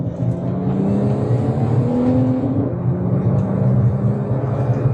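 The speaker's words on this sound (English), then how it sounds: "When you step on it, you'll definitely hear a difference in the exhaust note." Exhaust note of a Ford XR50 Turbo fitted with an X-Force exhaust, heard from inside the cabin as it accelerates, a loud rising drone with a steady whir, continuous for the whole stretch with no talk.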